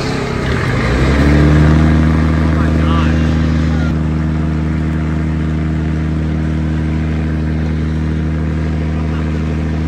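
A heavily built second-generation Cummins dually diesel truck roars at a steady high idle against the brakes during a truck pull, a loud, continuous droning engine note with a brief surge early on.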